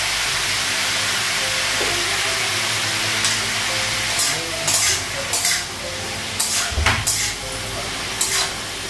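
Cumin seeds hit hot oil in a pan in a home kitchen and set off a steady, hissing sizzle. A few scrapes and clinks of stirring punctuate it close by.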